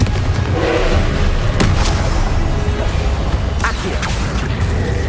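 A Confringo fire spell goes off in Hogwarts Legacy, a few booming blasts and crackling bursts over a dense, rumbling battle din.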